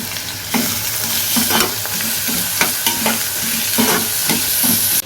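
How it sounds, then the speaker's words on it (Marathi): Onion sautés in a pan with a steady loud sizzle, and a spatula scrapes and stirs in regular strokes close by, with no voices over it. "कांदा चांगला असा परतून घ्यायचा"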